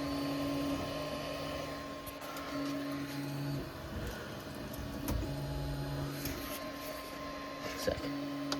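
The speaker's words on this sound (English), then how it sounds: "Time to check the 3D printer." A 3D printer runs a long print, its stepper motors whirring and shifting pitch in short tonal bursts over a steady mechanical hum, close and moderately quiet.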